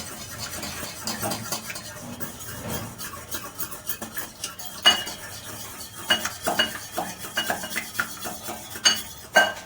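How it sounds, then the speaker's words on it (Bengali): An egg beaten with a spoon in a bowl for a Bengali fish fry batter, with quick, rhythmic scraping and clinking strokes close by that run steadily and grow sharper toward the end. "ডিমটা ভালো করে ফেটিয়ে নেব।"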